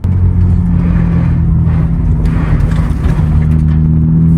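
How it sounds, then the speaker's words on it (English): A slammed, lowered Nissan Z drives over a pothole, with a loud, steady low engine and road rumble and a scraping, rough texture running underneath throughout. "Bro, it literally scrapes everywhere, and the car is even that low."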